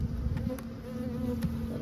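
Honeybees buzz around hive boxes while nucleus colonies are moved into ten-frame deeps, a close continuous hum with individual bees passing briefly louder, no talk.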